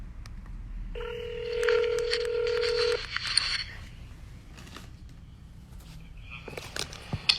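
A telephone call placed on a phone line: a few quick dialing tones, then a loud sustained ring tone for about two seconds, followed by quieter line noise and faint clicks.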